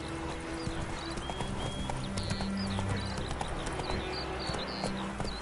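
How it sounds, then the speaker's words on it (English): Roach the horse trots along in The Witcher video game, hooves clip-clopping in a steady rhythm at close range over ambient game sounds and faint birdlike calls. "That's it, Roach"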